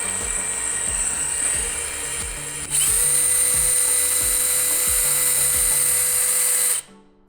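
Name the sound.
electric drill driving the AWAH Z3 descender winch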